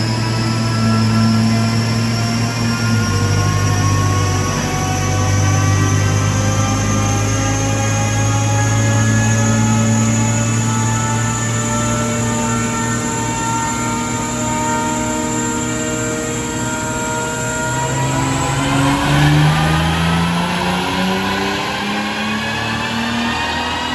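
A car engine runs at full throttle on pump gas during a dyno tuning pull after a performance package install. The loud, sustained drone climbs steadily in pitch, then breaks off abruptly near the end.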